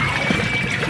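Running tap water rinsing fresh strawberries in a home kitchen, a steady close rushing stream that runs without a break for the whole second.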